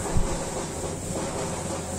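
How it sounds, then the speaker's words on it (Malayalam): The Darjeeling toy train runs on its narrow-gauge track near Ghum station, a steady rumbling rattle of wheels and carriages that stays close and even throughout. "ചെറിയൊരു റെയിലുണ്ട്, അതിലൂടെ ട്രെയിൻ പോകുന്നു."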